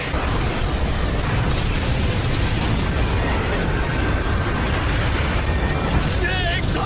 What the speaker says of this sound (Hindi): ये एक्सप्लोजन 10 किलोमीटर तक होगा